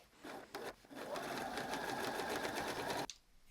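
A sewing machine runs steadily for about two and a half seconds, stitching fabric bunting flags cut from a printed panel, with brief stops and restarts at the start and an abrupt halt near the end.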